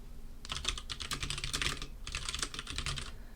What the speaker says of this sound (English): Now that's a lot of typing.